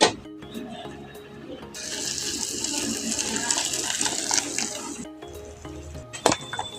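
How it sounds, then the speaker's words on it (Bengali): Hot water poured onto soybeans in a bowl, a steady splashing gush lasting several seconds between a few soft clunks and a sharp knock near the end, close by with no speech. "এখন এই সয়াবিনের মধ্যে এখন আমি দিয়ে দেবো গরম জল।"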